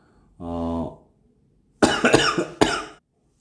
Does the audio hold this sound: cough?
yes